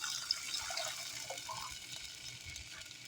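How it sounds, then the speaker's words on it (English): Homemade vegetable broth poured into a pan, a faint continuous gurgling splash of liquid running in, fairly quiet and unbroken throughout. "now it's time to add the vegetable broth"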